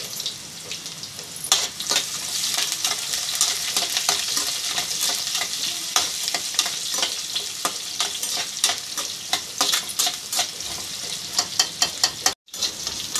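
Spices frying in hot oil in a pan for miriyalu charu, a Telugu pepper soup: a steady close sizzle with frequent clicks and scraping stir strokes, a brief dropout near the end.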